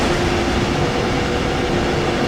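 A BR 185.2 electric locomotive in Train Sim World 2020 rumbles along in a steady, loud drone of rolling wheels and motor hum, unbroken and without speech.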